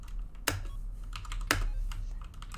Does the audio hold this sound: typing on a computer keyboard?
yes